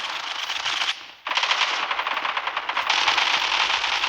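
Gunfire in the video game Zula sounds as loud, rapid automatic bursts. A brief pause breaks the firing before it resumes in sustained, dense volleys.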